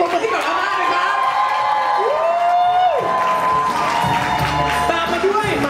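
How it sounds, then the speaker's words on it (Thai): A crowd claps and cheers for a grandmother at a Songkran festival event: a steady, dense wash of applause and shouting voices with a brief rising tone partway through. "ขอเสียงปรบมือให้กับอาม่านะครับ"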